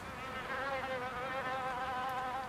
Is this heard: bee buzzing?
yes